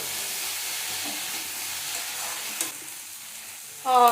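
Mint and coriander frying in oil for tomato bath, a low steady sizzle with occasional stirring scrapes, ending in a brief louder clatter.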